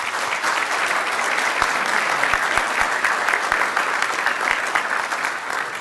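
Steady, full applause fills a city council chamber as the public claps for newly sworn-in council members, sustained and fairly loud throughout.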